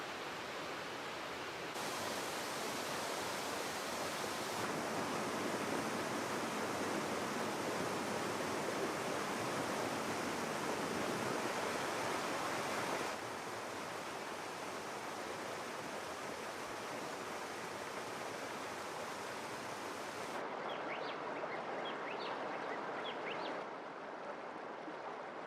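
A river flows in a continuous broadband rush, steady and moderately distant, with slight shifts in level and no voices.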